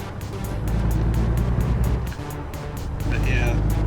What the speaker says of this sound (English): Accelerating on a hill is always fun.